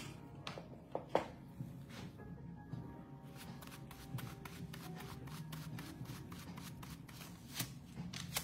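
Aluminium foil is folded and pressed onto hair during highlight colouring, giving close, crisp crinkles, soft taps and quick papery rustles in irregular bursts, with a few sharper snaps early on.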